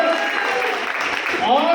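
An audience applauds a couple at a speaking event, a dense, steady patter of many hands clapping close and loud throughout.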